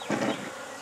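Honey bees buzz around hive frames set back in a cage, a close, steady hum that swells briefly and then settles, with no talking.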